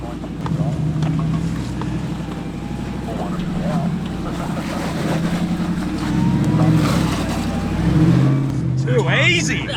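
A 4WD engine rumbles low and steady as the vehicle slowly reverses along a rough off-road track, with wind buffeting the microphone and people talking over it throughout.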